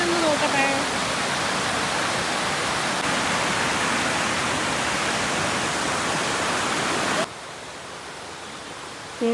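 Waterfall at Maramec Spring park, a loud steady roar of rushing water filling the scene close by, dropping suddenly quieter near the end as if moving away.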